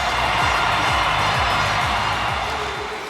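A loud, sustained roar of spectators cheering at a Paralympic ice hockey game at the Milano Cortina 2026 Winter Games in Italy. The dense crowd noise holds steady throughout and eases slightly near the end.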